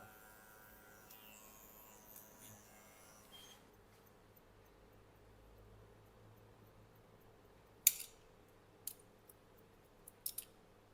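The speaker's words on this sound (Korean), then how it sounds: "이 부분은 가위로 살짝." A few sharp, quiet snips of hairdressing scissors trimming a man's short dandy haircut, coming in a short cluster near the end after a long, near-silent stretch.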